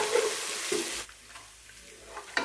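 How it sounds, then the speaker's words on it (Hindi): Garlic and ginger sizzling in hot oil for Sindhi biryani, a moderate frying hiss that drops off after about a second, then a quieter stretch and a brief clink. "इसको हम लहसुन और अदरक को भूनेंगे जब तक कि इसका कच्चापन जो है वो ख़त्म नहीं हो जाता"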